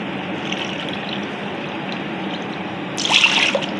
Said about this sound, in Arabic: راح أبدي أضيف 5 أكواب حليب